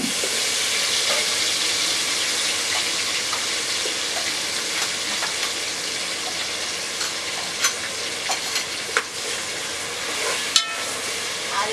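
Onion paste frying in a pan for a country-chicken curry, a steady close sizzle running throughout with occasional soft clicks of stirring near the end.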